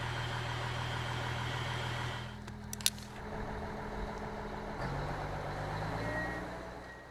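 A PRINOTH snow groomer working on a steep slope with its automatic winch gives a steady low engine drone throughout, with a brief metallic clink and a shift in engine tone partway through.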